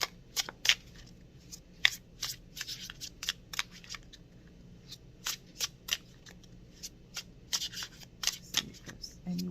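Tarot cards are shuffled close up, giving a string of crisp riffling snaps and flicks in irregular bursts, with a faint voice murmuring underneath.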